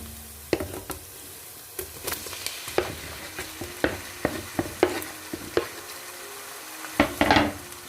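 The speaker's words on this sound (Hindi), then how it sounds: "चिकन को ऐड करने के बाद इसको अच्छे से भूनेंगे।" Chicken pieces being stir-fried in a pan for restaurant-style vegetable noodles: a low sizzle punctuated by a dozen sharp spatula knocks and scrapes against the metal, with no one speaking.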